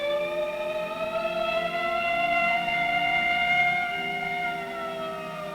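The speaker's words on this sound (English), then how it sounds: "I heard the ambulance coming." A wailing emergency siren sounds steadily and fairly loud, its pitch sliding slowly up and down with no voices over it.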